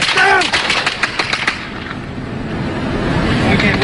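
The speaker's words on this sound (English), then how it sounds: "there's gunfire all around us" Rapid bursts of gunfire on a front line in Libya crackle sharply at the start, then fade into rumbling wind and a muffled background.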